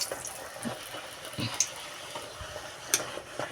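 Food frying in well-heated oil in a home kitchen, a soft steady sizzle with scattered small pops and clicks, fairly quiet and close.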